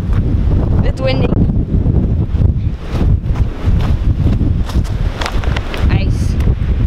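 Strong wind buffets the microphone beside an outdoor hockey rink covered with ice, a loud continuous roar with gusty surges throughout.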